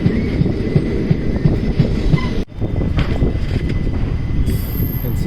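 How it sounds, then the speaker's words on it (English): A diesel locomotive train approaches on the next track near a small-town railway station in Tamil Nadu, India, its heavy rumble and rhythmic wheel clatter loud and close, briefly cutting out before continuing steadily. "You can see there is another diesel locomotive coming. Coming on the next track."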